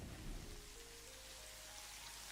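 Steady video game rain hisses densely and evenly throughout, with a low rumble of thunder near the start and no voices.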